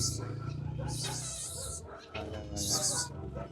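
A street cat meows and yowls in a few drawn-out cries, near and fairly faint, mixed in with people talking nearby.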